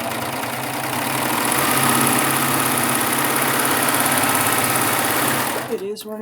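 A Baby Lock Triumph overlock serger runs steadily as it stitches a scrap of fabric, giving a fast, even mechanical whir up close that stops abruptly near the end.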